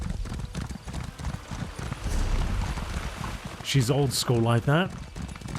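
Horse hooves clip-clop in a steady trotting rhythm while riding in the video game Elder Scrolls Online, under a voice talking over the game's ambient sound.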